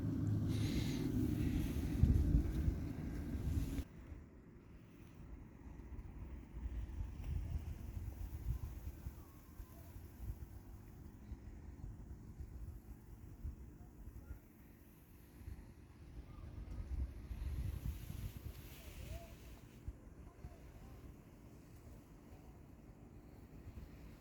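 A quiet Ligurian fishing harbour with still water, a low, steady rumble of wind and distant water lasting about twenty-four seconds, with a louder gust near the start.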